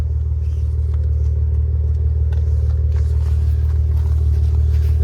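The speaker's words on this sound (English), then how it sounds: "The engine sounds good. The exhaust sounds fantastic." A 2014 Maserati Ghibli S Q4's engine and exhaust give a deep, steady rumble with a strong low-end drone, idling evenly throughout with no voices, close and loud.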